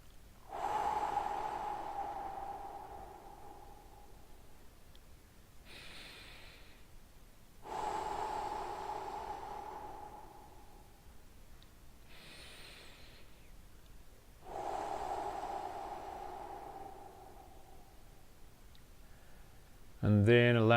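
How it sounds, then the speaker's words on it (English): During a guided relaxation before a run, three big, deep breaths come in a slow, even rhythm, each a long, audible inhale and exhale with quiet pauses between them. "we're going to start as usual with 3 big deep breaths"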